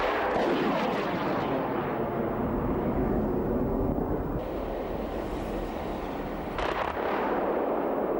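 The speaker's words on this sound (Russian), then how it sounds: "Сейчас мы их поставим на съемку артиллерийской стрельбы." Artillery fire at a military firing exercise, heavy booming blasts that roll into a long, loud rumble, with wind buffeting the microphone and no speech.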